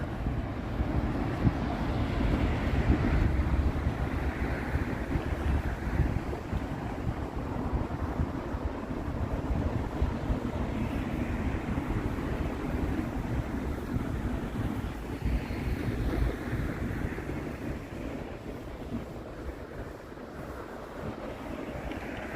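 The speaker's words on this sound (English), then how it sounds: "the wind has kicked up a bit" Wind buffets the microphone during an outdoor walk through Toronto on a chilly December day. It is a steady, rumbling gust noise with soft swells that lasts the whole stretch, with no voices heard.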